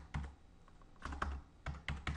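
Close, distinct keystrokes on a computer keyboard while coding a jQuery slider in Dreamweaver, coming in short uneven clusters of clicks with brief gaps between them.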